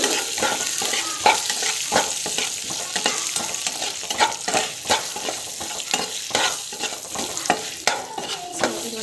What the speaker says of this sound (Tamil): ஸோ காஞ்சி மிளகாவும் ஆட் பண்ணிவிட்டு கொஞ்சம் நேரம் வந்து பார்த்தீங்கன்னா வதங்கிட்டோம். நல்லா வந்து வதங்கணும்.